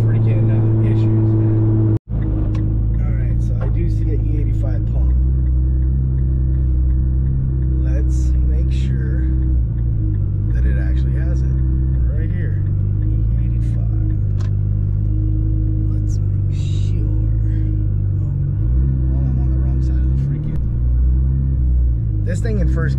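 A Nissan GT-R driving in first gear: a steady, loud low engine rumble from inside the cabin, with slight surges as the car jerks along and a person talking over it.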